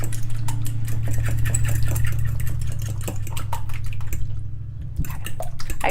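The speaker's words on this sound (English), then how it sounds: "mix the egg." An egg being beaten for breading tilapia, a steady mechanical whirring hum with a light, rapid clicking texture running throughout, close and fairly loud, with no talking.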